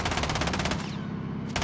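Sustained rapid machine gun fire in the Call of Duty Warzone video game, a loud dense burst that cuts off abruptly as if the magazine runs dry, then briefly resumes.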